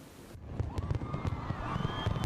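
Fireworks burst over the Havana waterfront boardwalk during a city anniversary celebration, a rapid series of distant pops and crackles with whistling streaks over a murmuring crowd.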